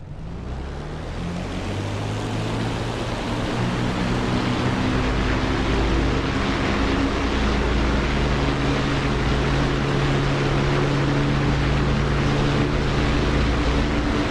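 Aircraft engines roar at full throttle during a takeoff roll in a flight sim game, a dense, steady, loud rumble with a deep droning hum that holds unbroken throughout.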